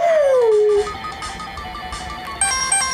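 A robot dog boss in Mega Man X lets out a falling, siren-like electronic howl, followed by chiming synthetic game tones and a bright electronic blip near the end, with no talking.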